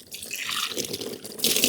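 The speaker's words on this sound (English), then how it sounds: "I'm getting them some water now" Water splashes and trickles steadily into a container outdoors under a shaded tree as a trough is filled for goats, a continuous close pouring that grows brighter near the end.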